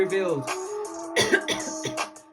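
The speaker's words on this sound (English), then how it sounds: "Coughing because they don't want me to speak." A few rough coughs and throat-clearing noises, close by, in quick irregular bursts with brief pauses between them.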